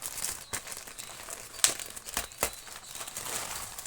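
A parcel is opened by hand without scissors: soft, close crinkling and tearing of packaging with a few sharper rips, quiet and with no talking.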